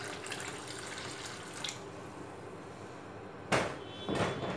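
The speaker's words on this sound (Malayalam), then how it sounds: "ഇനി ഇതിലോട്ട് നമുക്ക് എത്രത്തോളമാണ് മാവ് മുങ്ങിക്കിടക്കുന്നത് ആ ഒരു കണക്കിന് വെള്ളം ഒഴിച്ചു കൊടുക്കണം." Water is poured into a bowl of wheat flour dough, a soft steady stream that swells into brief louder gushes near the end, close and otherwise quiet.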